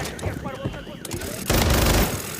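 Machine gun fire in Call of Duty MW3 gameplay, a dense burst of rapid shots swelling loud in the latter half after softer game sounds and a voice earlier on.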